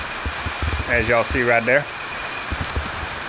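Steady rain patters by the Tchefuncte River while someone speaks briefly over it, the soft wash of drops continuing alone afterward.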